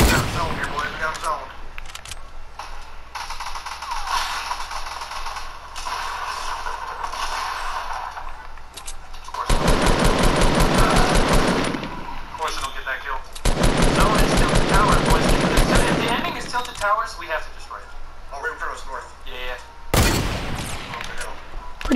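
Video game gunfire, with long, loud bursts of rapid automatic fire in several separate volleys and quieter stretches of game noise between them, and players talking in the gaps.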